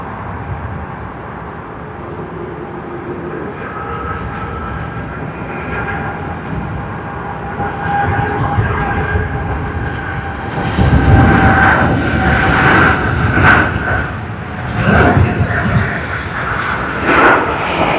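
Boeing 787-9 jet arriving at Sydney Airport, a steady engine roar with whining tones that swells louder toward the end, heard at some distance with no talk.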